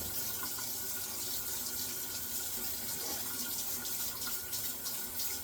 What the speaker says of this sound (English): So first thing I'm going to do is run my hot water.